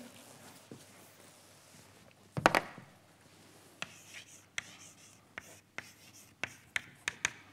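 Chalk or marker strokes on a lecture-hall board as a mathematical equation is written, a loud scraping burst followed by a series of sharp, irregular taps, fairly close, with faint room noise and breathing between them.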